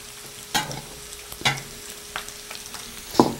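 Pork belly sizzles in a pan with its fat rendered out, a low steady frying hiss broken by several distinct clatters of a utensil moving the meat, close and without talk.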